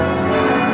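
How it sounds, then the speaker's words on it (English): Bells ring furiously at dawn near City Hall, a dense, loud, continuous clangour of overlapping tolling that fills a brief moment. "dawn breaks to the furious ringing of bells"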